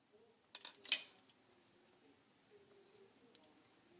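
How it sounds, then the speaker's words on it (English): One rounded end of a wooden popsicle stick is cut off in a couple of quick, crisp snips close by, followed by a quiet room. "take one of your popsicle sticks and cut off"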